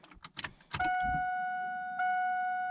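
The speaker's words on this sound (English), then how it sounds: "You can hear the fuel pump kick on and everything" A few clicks and clunks, then a steady high electronic whine starts up and holds, briefly re-triggering, as a car's fuel pump hums on.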